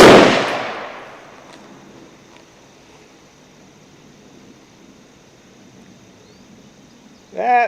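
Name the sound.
Yankee FAL rifle gunshot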